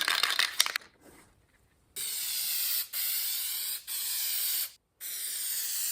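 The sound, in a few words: spraying Loctite MR5426 headliner adhesive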